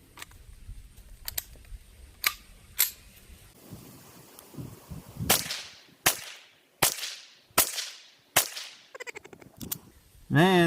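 Sharp .22LR gunshots from a 10-inch barrel, several separate cracks spaced about a second apart, each with a short decaying tail, some fainter and some louder, ending with a brief buzzing noise.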